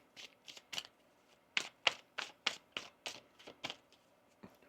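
Crisp riffling bursts of tarot cards being shuffled, about a dozen quick papery flicks in an uneven rhythm, close and fairly quiet, with no talking.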